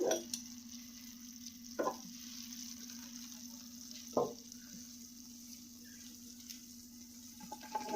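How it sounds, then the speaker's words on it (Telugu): A hot seven-cups sweet mixture is poured out of the pan onto a plate, with a soft sizzle broken by a few sharp scrapes of the spoon against the pan, quiet and close. "ఇప్పుడు ఈ ప్లేట్లోకి అయితే పోసేసుకోవాలి మొత్తం"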